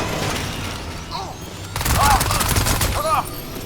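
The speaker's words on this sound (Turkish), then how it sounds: "Silah sesleri gelmeye başladı." A rapid burst of Crysis 2 video game gunfire breaks out, loud and rattling, with chirpy electronic effects and background game noise.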